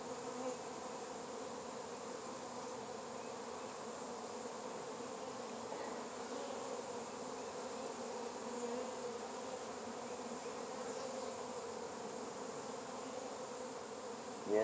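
Honey bees in an open hive during a February inspection in Fairplay, Maryland, hum in a soft, continuous drone that stays steady throughout with no talking.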